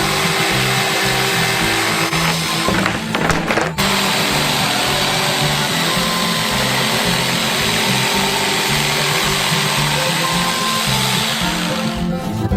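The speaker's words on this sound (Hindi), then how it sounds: "एक इलेक्ट्रिक आरे के साथ इसे काट लेंगे।" An electric saw cuts through a giant homemade Bounty bar form, a steady loud motorized whine and grind running throughout with a brief dip in the middle, no voices.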